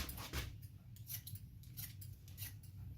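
Scissors trim hair in a steady series of quick, soft snips at close range, repeating every fraction of a second against a quiet, low background hum.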